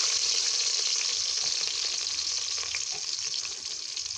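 Chopped onion sizzles in hot oil with cinnamon, cardamom and bay leaf, a loud dense frying hiss that holds steady and close throughout without speech.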